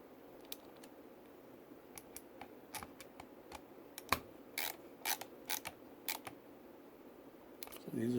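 Small screws being tightened on burlwood laser grips fitted to a .45 Commander 1911 pistol: faint, scattered clicks and scrapes of a screwdriver, quiet and close, with a few sharper ticks near the end.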